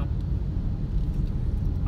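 Heavy road traffic in Magallanes, a steady low rumble of cars and buses with a continuous engine drone throughout.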